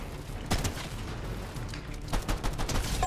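Huntress DMR rifle shots in Fortnite: loud, sharp cracks arrive in a quick cluster near the start and again later, over constant dense background battle noise.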